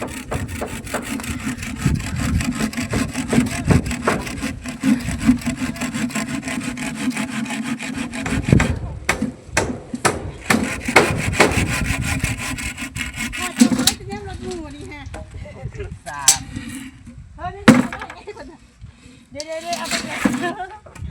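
Wood is sawn with steady, rasping back-and-forth strokes close by at a home building site, with someone talking over it and the strokes giving way to scattered knocks and scrapes near the end.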